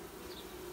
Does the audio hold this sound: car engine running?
no